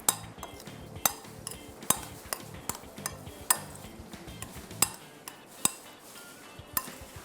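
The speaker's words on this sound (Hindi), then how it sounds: "अब इसको चला देते हैं ताकि पैन हमारा गर्म हो जाए।" A spoon stirs enchilada filling with seasoning in a pan, giving repeated light metallic clinks and scrapes against the pan at a steady, uneven rhythm, fairly close and alone without talk.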